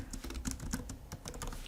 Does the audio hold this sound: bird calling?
no